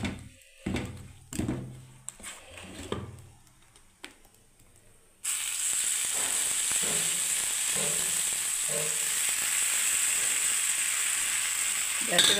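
Mung dal chilla frying in a pan with a small splash of oil, starting with a few clanks and knocks before a steady, close, continuous sizzle takes over and holds for several seconds.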